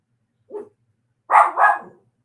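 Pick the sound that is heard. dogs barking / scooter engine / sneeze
dogs barking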